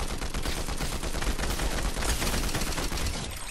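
Combat Assault Rifle fire in Fortnite: dense, loud automatic gunfire sustained for several seconds, rapid shots merging into a continuous burst with heavy low-end punch, tailing off at the end.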